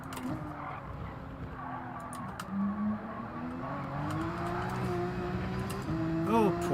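A Porsche race car engine in Gran Turismo 7, a steady mid-distance drone with rising pitch as it accelerates, ending in a brief tire squeal.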